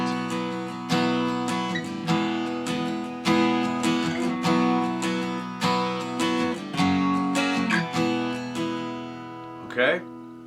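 Acoustic guitar strums a verse chord progression in steady rhythm, bright chords ringing close and clear, alone until a brief muted scrape near the end.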